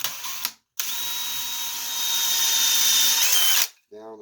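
A power drill bores down into a split in a piece of wood, a steady high whine running for about three seconds after a brief start, then stopping, with a short bit of voice at the end.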